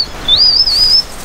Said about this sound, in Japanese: なんか鳥かな。